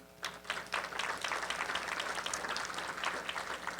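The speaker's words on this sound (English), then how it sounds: "So just now that you're in the mood of clapping" Audience applause at the 2020 "20 Under 40" awards ceremony, a steady wash of many hands clapping that starts sharply and holds at moderate loudness throughout, with no talking over it.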